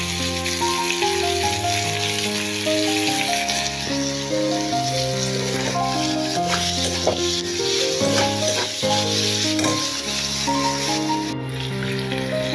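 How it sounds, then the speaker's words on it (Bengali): Chopped onions fry with salt in a pan for a village-style desi chicken dish, a loud, steady sizzle running throughout with occasional stirring scrapes and a constant low hum, no talking. "পেঁয়াজ ভাজা হয়ে গেছে"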